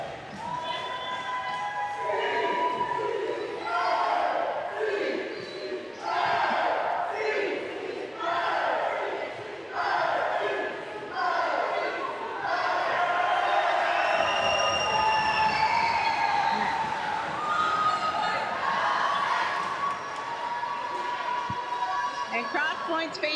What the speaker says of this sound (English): Crosspointe fans in full form today, cheering on their Panthers